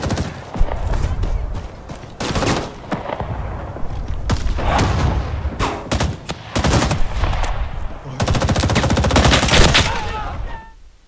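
Machine gun fire from a balcony MG in Rising Storm 2: Vietnam, Saigon map, playing as ARVN: dense, sustained automatic bursts mixed with heavier booms of battle, loud and continuous with brief gaps.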